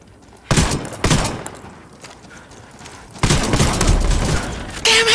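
Gunfire in the tactical shooter Ghost War bursts out in loud sustained volleys, with sharp shots early, a quieter stretch, then heavy continuous firing to the end.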